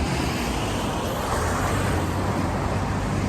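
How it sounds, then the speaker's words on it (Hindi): Trucks and other traffic pass on a nearby road, making a loud, continuous broadband roar with a low rumble that persists throughout, with no voices. "ट्रक गुजरते हैं तो उसके बाद आवाज़ जो है वो काफ़ी सुनाई नहीं देती"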